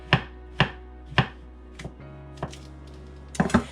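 A knife chops mushrooms into small pieces on a cutting board with sharp, distinct knocks, about seven or eight strokes at an uneven pace over a faint background hum.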